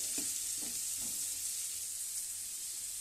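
Papaya pieces frying in a pan give a steady, bright sizzle throughout, with a few soft stirring scrapes near the start.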